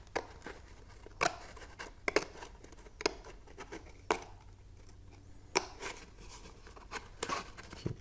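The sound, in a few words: cutting with scissors at a 45-degree angle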